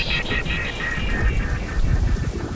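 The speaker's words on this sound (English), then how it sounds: "Rain is coming down in sheets" Heavy rain pours down in sheets during a storm at the construction site of Berlin's central train terminal, a dense, steady roar of wide noise with occasional low rumbles underneath, continuous and fairly loud throughout.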